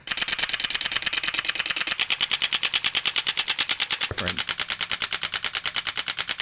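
Rapid, steady mechanical clacking of three Blamcon Vyper V3 airsoft guns firing together in continuous bursts, a dense rhythmic rattle with a brief pause and restart midway.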